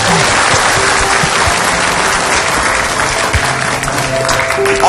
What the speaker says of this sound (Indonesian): Kasih tepuk tangan dulu coba.